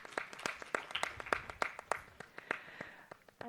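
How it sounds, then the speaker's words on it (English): Sparse, scattered clapping from a small audience at a professional society's zonal branch event welcoming a speaker, a dozen or so distinct sharp claps in uneven rhythm, quiet and somewhat distant. "Can we have a round of applause as we welcome them on stage"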